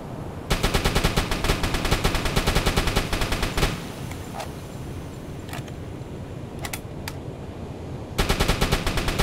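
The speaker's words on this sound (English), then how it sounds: "Hoffman, target SS Barroy with your anti-aircraft guns." Rapid anti-aircraft gunfire rattles from a ship in a WWII submarine game set against an Allied convoy, loud sustained bursts that pause for several seconds of quieter background rumble and a few isolated shots before resuming.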